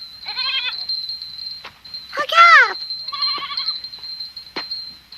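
Goats in a mountain herd bleat in several wavering cries, one loud and close in the middle and others fainter around it, while someone speaks briefly and a steady high tone hums underneath.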